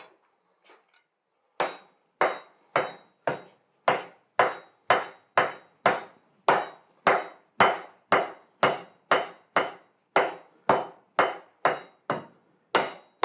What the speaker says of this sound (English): the shaping of the hammer is just easily kind of pulling that longer and skinnier